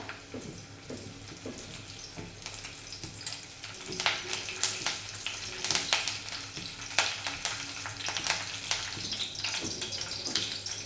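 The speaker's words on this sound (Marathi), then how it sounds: "तेल चांगलं गरम झालेलं आहे तर ह्याच्यामध्ये आपण भरपूर असा कढीपत्ता ॲड करूया" Curry leaves crackling and sizzling in a spoonful of hot oil in a pan, steady frying hiss with sharper pops, fairly quiet and without talk.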